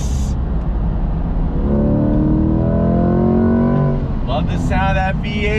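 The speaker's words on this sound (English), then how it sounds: "Love the sound of that V8." A 2021 Chevrolet Corvette C8 V8 in manual shift mode with Zora mode engaged revs hard under full throttle, its loud rising engine note climbing steadily before a quick Tremec gearshift and renewed pull, with faint voices underneath.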